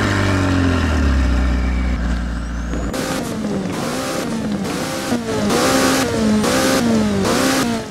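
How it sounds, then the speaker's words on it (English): A McLaren in the Roblox game Driving Empire starts with a low idle, then revs loudly in a series of rising and falling pulls, up close and with no voices. "Okay, the startup and the rev is actually pretty decent though."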